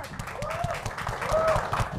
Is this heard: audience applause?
yes